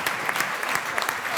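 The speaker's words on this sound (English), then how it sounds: "a big round of applause for you for joining us here on stage" An audience claps steadily for a speaker on a conference stage, a dense, even patter of many hands at close range that continues throughout.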